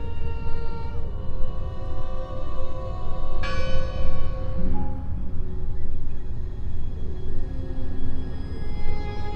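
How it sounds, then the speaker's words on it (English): Large bell ringing in the video game Draugen, deep resonant tolls with long ringing overtones, one strong strike midway over a dense low ambient drone. "Listen! The bell!"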